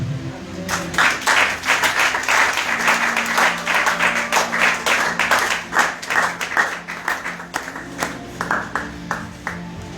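Worshippers in a church congregation clap loudly for the Lord after a sermon, a steady stream of sharp, rhythmic claps with faint voices mixed in.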